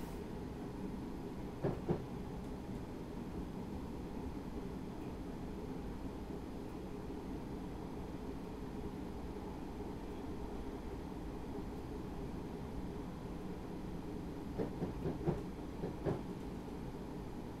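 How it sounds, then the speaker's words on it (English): Steady low rumble of a Great Northern Class 313 train in Train Sim World 2021 rolling and gradually slowing, with a couple of brief clanks and rattles near the start and again toward the end. "So we'll let the train slow down to"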